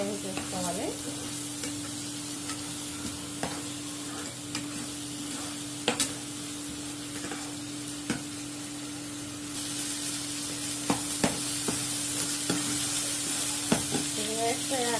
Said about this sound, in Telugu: ఆ తర్వాత టమాటా జ్యూస్ కూడా వేసేస్తున్నాను. ఇది కూడా పచ్చివాసన పోయేదాకా వేడి చేసుకోవాలి.